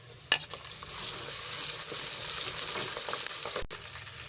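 Chopped green chillies fry with a constant, even sizzle in a pan, with a couple of soft utensil knocks near the start.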